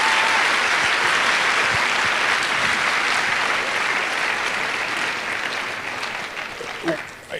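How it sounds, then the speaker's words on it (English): A courtroom audience applauds the litigants after an oral argument session, a full, dense wash of clapping that holds steady and then tapers off toward the end, with a few voices near the close. "How about a round of applause for our litigants today?"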